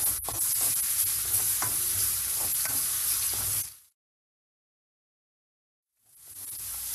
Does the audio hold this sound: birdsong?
no